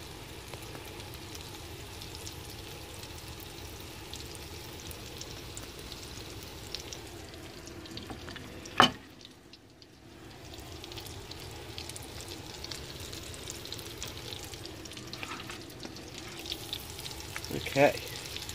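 Banana slices fry softly in a pan for French toast, a low, steady sizzle with two sharp clatters partway through and a brief dip in the sound between them.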